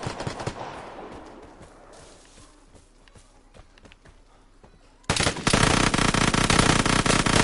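Gunfire from a weapon in the Vigor video game on PS4: loose bursts of shots die away into scattered cracks, then a sudden dense, loud stream of rapid automatic fire fills the final seconds.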